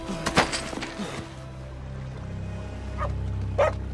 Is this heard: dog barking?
yes